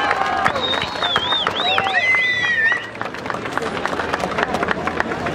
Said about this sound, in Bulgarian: Моля ви за аплодисменти да го подкрепим